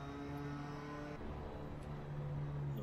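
A race car engine in the Assetto Corsa driving game, on an out lap at Oulton Park, hums at a steady, fairly low pitch with a slight shift partway through. No voices are heard.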